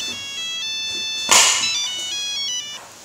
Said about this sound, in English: why are you ringing me?